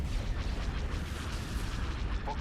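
Starship weapons fire in a Star Wars Thrawn's Revenge space battle: a dense, continuous rumble of distant cannon blasts and booms, loud and unbroken for the whole stretch with no talk.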